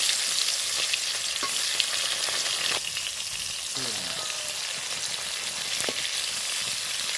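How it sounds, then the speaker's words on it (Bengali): Fish fry in hot oil in a wok for a sour dish with mango and sweet potato: a steady, close, loud sizzle with crackling spatters and a few faint scraping taps. "কড়াইতে তেল গরম হয়ে গেছে এই মাছগুলো দিয়ে দিই"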